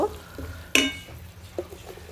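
Ground spice masala of chili, coriander and cumin powder being stirred and roasted in a frying pan, with a soft sizzle, a sharp scrape of the spatula against the pan and a few lighter stirring knocks.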